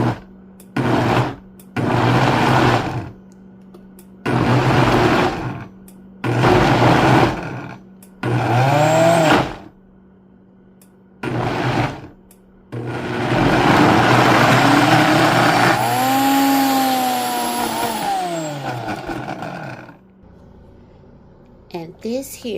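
A food processor pulsing sweet potato pie batter, with several short motor bursts separated by pauses, then a longer continuous whirring run, loud and close, with talk in between.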